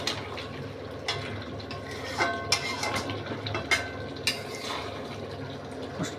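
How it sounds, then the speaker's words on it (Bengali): Nuts being stirred in a cooking pan over low gas heat while making shahi gravy chicken, producing scattered scraping and clinking strokes at an irregular pace, close by and fairly soft. "বাদামগুলো আর কি মেশাচ্ছি।"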